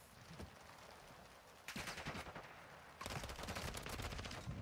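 Bursts of rapid automatic gunfire from a Call of Duty Modern Warfare 2 match, a scattered crackle at first, then two dense, loud volleys, close and sustained. No one talks.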